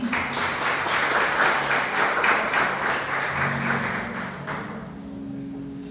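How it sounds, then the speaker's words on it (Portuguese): Congregation applauding in a church service, a steady wash of clapping from many hands that holds for several seconds and thins toward the end, with faint voices underneath. "Aplauda o Senhor, amém?"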